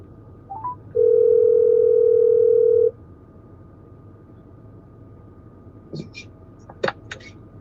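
A telephone dial tone plays as a steady, loud tone for about two seconds while a call is being placed. A few faint clicks and brief short sounds follow, with low background noise.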